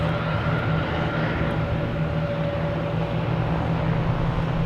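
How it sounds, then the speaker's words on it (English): Delta jets roll toward runway 22 at Boston Logan Airport, giving a loud, continuous engine drone with steady humming tones that holds evenly throughout, with no one speaking. "a couple of Delta planes racing down to get to 22"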